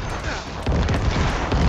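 A Druid's corpse explosion in the video game Diablo 4 sets off heavy, loud, rumbling booms that burst in and stay dense and layered, like a barrage.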